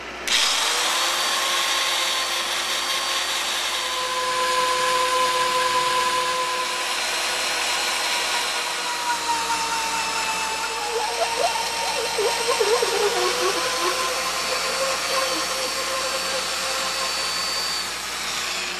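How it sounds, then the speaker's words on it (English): A power drill with a 7/8-inch bit whines continuously as it bores into a log, its pitch dipping and wavering under load for a long, steady stretch. "we're gonna be using a 7/8 drill."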